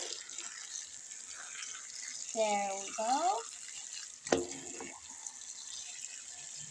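Tap water pours onto a soapy silicone pop-it fidget toy, a brief run of splashing and trickling close by, with a short spoken remark and a sharp knock partway through.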